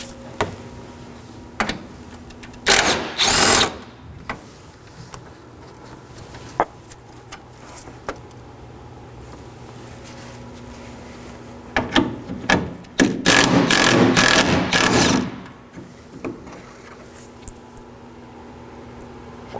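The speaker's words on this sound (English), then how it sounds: "Now I'm going to remove two 10mm bolts." A ratchet removes two 10 mm bolts from the front bumper area of a 2013-2019 Nissan Sentra, with two close clusters of rapid clicking bursts separated by quieter handling clatter.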